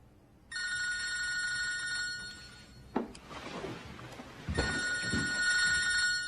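A telephone rings with a steady electronic tone in a quiet room, one long ringing burst, a pause with faint clatter, then ringing again.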